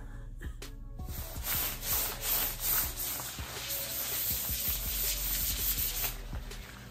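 Nylon-type winter jacket rustling and swishing as it is worn and moved, a steady close scraping rub with repeated brushing strokes, loud and continuous without talk.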